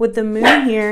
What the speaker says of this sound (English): I'm sorry, guys. That's my dog.